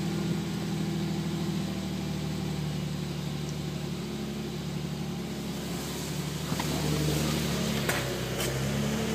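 A 2008 Infiniti G35 sedan idles steadily in a cold garage just after a cold start, a low, even engine hum with faint mechanical ticking and a few small clicks near the end.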